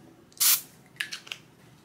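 A room spray canister gives one short, loud hiss close by, followed by a few faint clicks and handling sounds.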